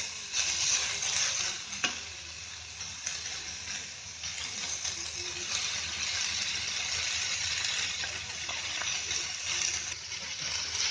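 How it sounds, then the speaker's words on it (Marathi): Onion and carrot fry together in a pan for veg cheese Schezwan cutlet balls, a steady soft hiss of sizzling oil with occasional stirring clinks and rattles throughout. "कांदा असा थोडासा चांगला फ्राय करायचा. आता याच्यामध्ये गाजर टाकते."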